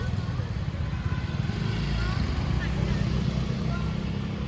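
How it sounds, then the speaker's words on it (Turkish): Car and motorbike traffic fills a busy street in Vietnam, a dense low rumble of idling and revving small engines that runs steadily and loudly throughout, with no clear speech. "Araba ve motor gürültüsü."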